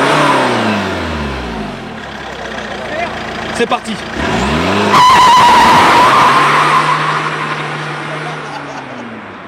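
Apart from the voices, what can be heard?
tuned Fiat Multipla car accelerating and skidding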